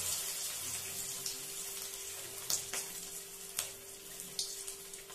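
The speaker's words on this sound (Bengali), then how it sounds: "দেখুন ভাজা হচ্ছে" Rice, potato and vegetable snacks fry in hot oil over a low-medium gas flame, a quiet steady hiss with occasional soft crackles and pops.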